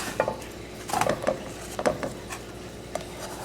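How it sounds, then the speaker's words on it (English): Sada roti being flipped in a pan for Trinidadian cooking, heard as a few light scraping and clinking knocks of a utensil against the pan, close and moderately loud, with quiet pauses between. "I'm going to flip it."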